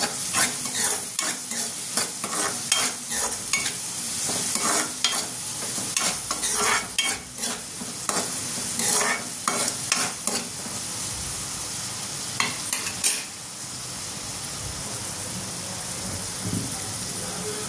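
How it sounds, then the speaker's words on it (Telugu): Chopped onions with turmeric and salt sizzle steadily in a pan, with repeated scraping stirs clattering over the constant frying hiss, close and loud throughout. "ఆనియన్స్ త్వరగా రోస్ట్ అవుతాయి కదా."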